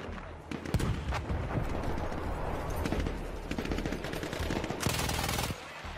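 Dense, continuous gunfire from the World War I shooter Battlefield 1: rapid machine-gun bursts layered with single shots and heavier booms, loud and sustained throughout with a sharp burst of crackling near the end.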